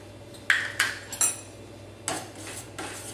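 A utensil scraping and clinking against a pan while dairy-free cheese is stirred into simmering Alfredo sauce, with several sharp taps and clinks spread irregularly over a quiet background hum.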